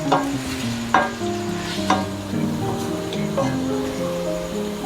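Garlic and onion fry in oil sizzling steadily in a pan while a utensil stirs and scrapes, with a few sharp clinks against the metal; no talking.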